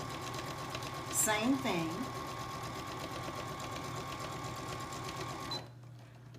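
Domestic sewing machine running a few short back stitches while sewing a pillow insert, with a brief whirring burst and steady motor hum, quiet and close, a short spoken remark over it before it stops.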